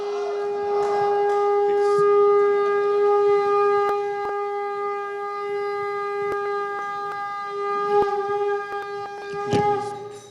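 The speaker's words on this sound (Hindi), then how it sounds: "सर पंडित जी शंखनाद के लिए आइए प्लीज" A pandit blows a conch shell (shankhnad) to open a women's conclave, a long sustained horn-like tone rich in bright overtones that holds steady for about ten seconds with slight wavering and no talk over it.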